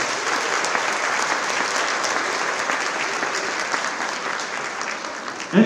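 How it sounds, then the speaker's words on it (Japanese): Audience at a Hokkaido dance championship applauding the finalist couples, loud dense clapping from a large crowd sustained evenly throughout, with no speech over it. "会場の皆様、一組一組に温かいご声援よろしくお願いいたします。"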